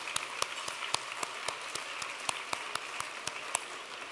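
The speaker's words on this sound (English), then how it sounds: "Please join me in one last round of applause for all tonight's donors." Sparse audience clapping at a justice awards gala honouring donors, with a few sharp individual claps standing out over a soft, thin patter at moderate distance.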